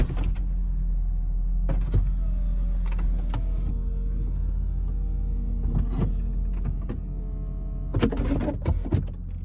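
A 2003 Mercedes SL500 retractable hardtop closes with a steady electric motor whine, overlaid by repeated sharp mechanical clicks and clunks that cluster near the end as the roof locks into place, heard close with no talking.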